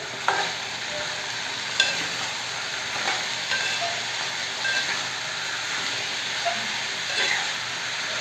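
Salted onions being stirred in a pan for an egg curry, a steady hissing sizzle with periodic sharp scrapes and taps of the spatula, close and alone.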